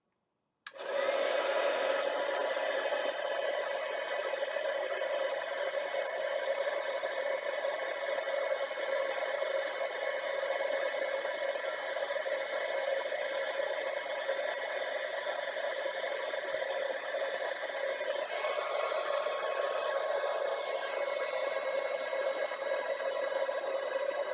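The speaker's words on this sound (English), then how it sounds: "So now we're just going to heat up that embossing powder to melt it in place. So let's grab our heat tool, and here we go." Heat tool blowing hot air to melt embossing powder on a card tag, a steady close whooshing hum that starts abruptly and runs continuously without talk.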